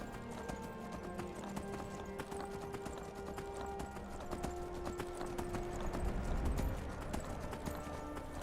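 Horse hooves clip-clopping at a steady walking pace in the Skyrim video game, a continuous moderately loud rhythmic patter over ambient game sound, with an occasional faint whinny.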